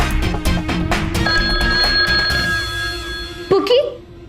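A telephone rings steadily with a sustained bell-like tone through a busy scene in a superhero TV series, with background music and voices; the ringing cuts off near the end followed by a brief sliding sound.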